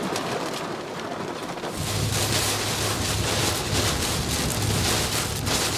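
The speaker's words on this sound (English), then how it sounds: "We are currently getting hit by a bowline of thunderstorms. You can see traffic is pretty well stopped on the side of the road due to the heavy rain." Heavy rain from a bow line of thunderstorms hammers down around a stopped car on a roadside. A dense, loud, unbroken roar of pouring rain plays alone, with a low rumble rising beneath it partway through.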